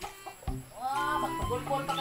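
Chicken clucking in a Filipino backyard setting, a few short harmonic clucks rising and falling at close range, with people talking in the background and sharp knocks or thuds mixed in.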